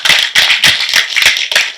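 At a large Tamil music festival event, audience applause comes in loud, choppy bursts of close handclaps with brief gaps between pulses.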